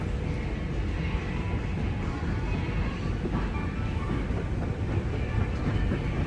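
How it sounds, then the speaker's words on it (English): A subway train ride from inside the carriage, a steady loud rumble and roar of the moving train with faint rail clatter, continuous throughout. "The one video I did take was on a subway ride"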